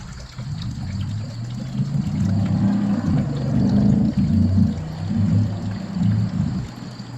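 A steady, moderately loud stream of vinegar pours from a jug into a commercial popcorn machine, a continuous liquid rush and gurgle lasting several seconds before tapering off.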